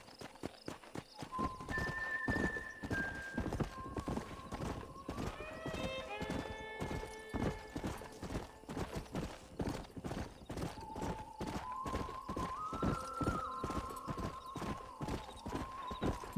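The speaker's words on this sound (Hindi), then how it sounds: "चल घोड़े भाई।" Horse galloping in the video game Red Dead Redemption: rapid rhythmic hoofbeats that run nearly throughout, with a few whinnies and tonal game sounds layered over them, moderately loud and close.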